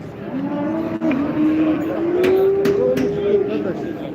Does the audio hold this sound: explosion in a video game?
no